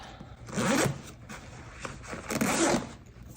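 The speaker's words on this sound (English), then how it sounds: "let's zip this up" Zipper pulled shut on a BAGSMART travel backpack in two quick, close strokes with a short pause between, fairly quiet and with no talking.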